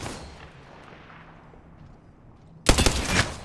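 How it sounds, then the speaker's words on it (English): Gunfire in Apex Legends: a fading echo from earlier shots, then a sudden loud burst of rapid, close shots near the end. "They're shooting at me."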